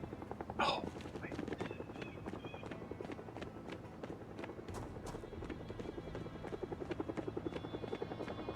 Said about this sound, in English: Okay, the chopper is above me.